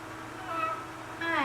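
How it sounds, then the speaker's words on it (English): A pet cat meowing indoors, a drawn-out close meow followed by a second rising, louder meow. "This was Travis's cat before we even met each other"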